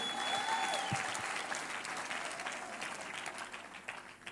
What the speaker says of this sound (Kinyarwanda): Wampereye Imana amashyi ishobora byose.